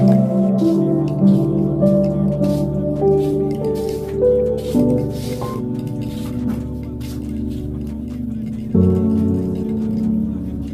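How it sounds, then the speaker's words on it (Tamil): Hot water is poured into milk powder, about three-quarters of a cup, with a wet trickling and dripping that runs steadily while a person talks over it. "ஒரு 3/4 கப் அளவுக்கு சுடுதண்ணி ஊற்றிடுவேன்."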